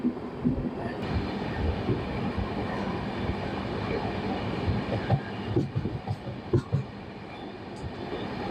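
Passenger train running through forest between New Jalpaiguri and Sevoke, heard from on board: a continuous low rumble with scattered wheel clicks and knocks, and a faint voice briefly in the background.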